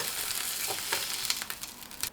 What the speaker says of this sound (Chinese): 同样的手法，我们炒一下黄瓜条，炒至黄瓜条微微变软即可出锅